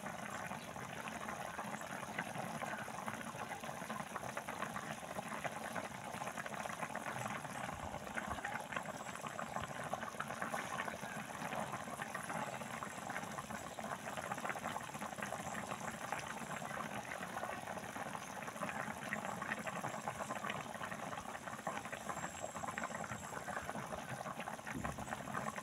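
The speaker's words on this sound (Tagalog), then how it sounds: "So yan, kumukulo na po siya." Steady bubbling and simmering of chicken adobo boiling in a pot on the stove, a continuous rolling hiss with no talking.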